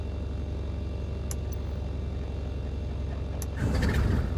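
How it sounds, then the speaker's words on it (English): The left engine of an aircraft in Microsoft Flight Simulator 2020 rumbles low and steady, with another engine droning alongside. Near the end it surges into a louder, rougher roar as it catches. "Left engine, good start."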